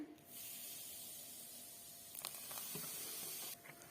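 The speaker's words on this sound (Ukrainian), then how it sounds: "одну чайну ложечку соди, загашую трішки оцтом" Baking soda in a bowl of cookie batter made with eggs and sour cream hisses steadily as it is quenched with a little vinegar, a close, sustained fizz lasting several seconds.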